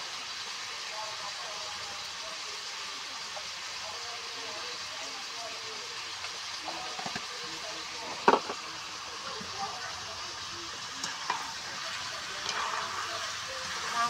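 Meat sautés with ground coriander, cumin, chili and biryani spice mix in a home kitchen, a low continuous sizzle with occasional stirring scrapes and clinks, while a person talks over it.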